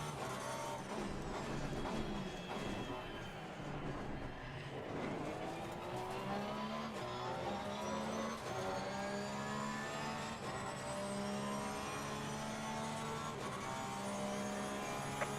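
Race car engines in Assetto Corsa Competizione during a championship race at Spa, with one car revving through gears and a high whine climbing in pitch, then settling into a steady drone, fairly loud with no talk.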